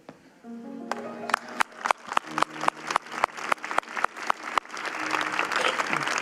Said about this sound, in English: Our hands are getting sore this morning from all the applause